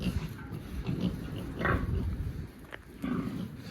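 A small piglet of about five or six kilograms, kept at a home pig farm, gives off grunting and squealing noises at close range. Irregular bursts are set over a low, continuous background.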